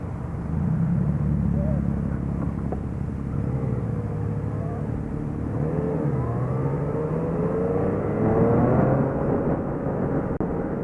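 Yamaha FZ-09 motorcycle pulling away and accelerating on a gravel lot at a motorcycle demo event, a steady engine drone rising in pitch through the gears, heard close from the rider's position with wind rush.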